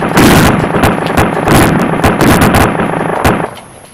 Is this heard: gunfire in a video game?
yes